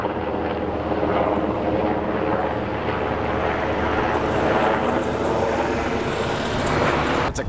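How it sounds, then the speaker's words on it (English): A Coast Guard helicopter drones overhead with a steady, continuous rumble that stays loud throughout, no voices over it. "It's a Coast Guard helicopter"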